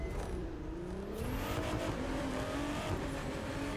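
A 2017 Ford GT in The Crew 2 drives the road from LA to Seattle, its engine droning steadily and climbing in pitch as it revs through the gears, loud and continuous, with no talking.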